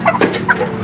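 Lively broiler chickens on a poultry farm in Gharbia, a dense chorus of clucks and calls overlapping in quick bursts, close and fairly loud with a steady flock murmur underneath.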